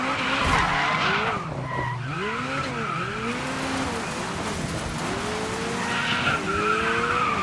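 Tyres squeal and skid repeatedly as a car slides into oversteer in the racing game Dirt 5, the pitch sweeping up and down in arcs over a steady engine drone, loud and continuous with no voice.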